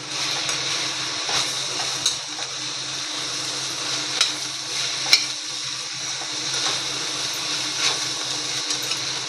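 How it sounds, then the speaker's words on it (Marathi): Mustard seeds crackle and splutter in hot oil in a pan, a steady close sizzle dotted with sharp pops and occasional scraping taps, with no voices. "हे बघा, मोहरी थडथडली चांगली."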